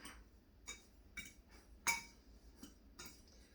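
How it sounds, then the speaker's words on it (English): Fork clinking against a bowl while mixing pork chop with breadcrumbs, a series of light, irregular metallic taps and scrapes, close and quiet. "with a fork, I'm going to just mix this all together with our breadcrumbs"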